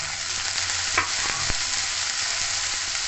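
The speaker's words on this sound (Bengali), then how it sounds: "ভালো করে সবজিগুলো ভাজবো" Mixed vegetables with tomato fry in a pan, a steady close sizzle broken by a few soft scrapes and knocks of stirring.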